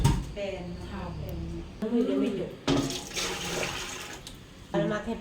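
Yanang leaf water is poured into a pot while cooking, a splashing watery pour in bursts that comes and goes, heard close under intermittent talk.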